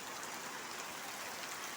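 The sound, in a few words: heavy rain falling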